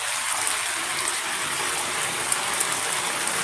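Heavy downpour of rain falling at night, a steady dense hiss of water without pause, close and fairly loud throughout.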